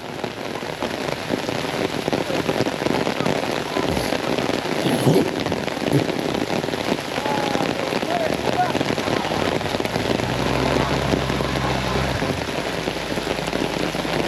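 Steady rain falls over an off-road trail by a remote mountain valley stream, a dense continuous patter throughout, with a low vehicle engine rumble rising near the end.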